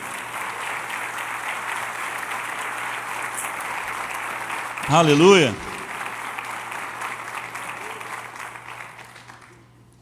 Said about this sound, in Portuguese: Então aplauda o nome dEle, querido.